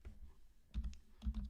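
Someone types on a computer keyboard while entering a value into a spreadsheet formula bar. A few faint, close keystrokes come in two small clusters.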